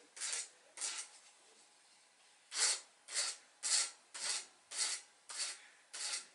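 Metal file sharpening the point of an iron drill bit for a toy boat build, about nine short rasping strokes in a steady rhythm after a brief pause, close and fairly quiet.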